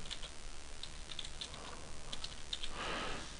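Quiet typing on a computer keyboard, a short scatter of soft key clicks over steady background hiss, with no talking.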